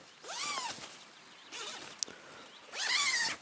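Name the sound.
zipper on Onetigris Hillridge tent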